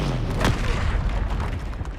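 A Confringo blasting spell bursts in Hogwarts Legacy, one heavy booming explosion about a third of a second in, spreading into a dense low rumble and crackle that fills the short stretch without talk.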